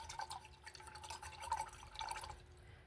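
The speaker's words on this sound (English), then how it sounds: "And I just poured out my water." Rinse water from a paintbrush cup pours out in a soft, continuous trickling splash, faint and close, lasting a few seconds without talk.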